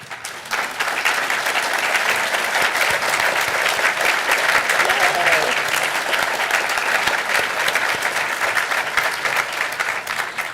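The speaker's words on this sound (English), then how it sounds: "let's give a round of applause to them." Loud, steady applause from an audience at a military spouse employment partnership induction ceremony, dense clapping filling the room continuously for over ten seconds.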